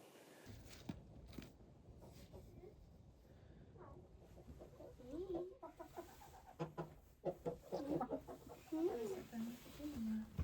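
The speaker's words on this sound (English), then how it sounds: "It's actually my nephew's chicken." Pet chicken clucking close by, a run of short rising and falling clucks that grows busier toward the end, with faint indoor noise and a few knocks.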